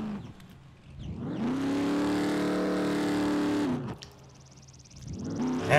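A car engine in the survival video game SCUM revs up, holds a loud, steady drone for a couple of seconds, drops off, then starts climbing again, with no talk over it.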